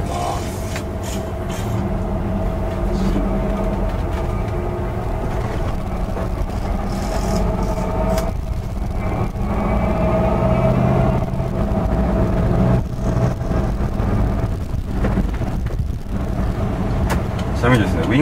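A 1979 VW Type 2 with automatic transmission idles and runs with a steady, close engine drum throughout, while someone talks over it.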